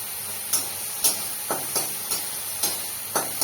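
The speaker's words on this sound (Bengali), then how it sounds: "আপনারা দেখতে থাকুন আমি কিভাবে ভাজছি" Shrimp fry in a small amount of oil, giving a soft steady sizzle broken by a regular run of sharp spatula scrapes and taps roughly every half second, close up.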